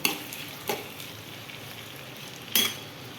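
Meat fries in a pan with a low steady sizzle, punctuated by two sharper scrapes of a utensil stirring it.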